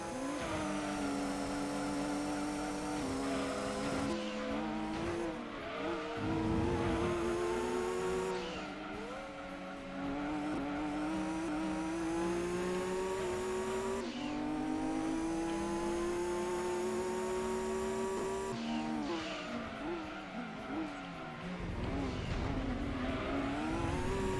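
Racing car engines in the video game Gran Turismo 2 rev and drone continuously, their pitch rising and dropping with gear shifts, with no talking over them.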